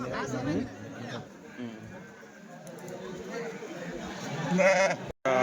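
Sheep and lambs bleat at a busy weekly sheep and goat market in Kadiri, their calls rising amid steady crowd chatter and nearby voices, with a louder bleat near the end.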